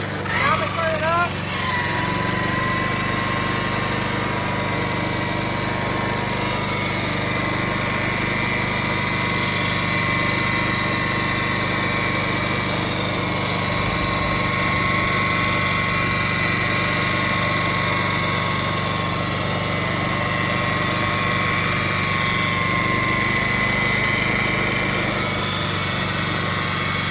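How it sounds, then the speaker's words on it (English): An electric rotary polisher compounds the gel coat on a black Chaparral boat hull, a steady high-pitched motor whine that runs loud and continuous, pitch shifting slightly as the tool works the surface. "Just like that is how you compound."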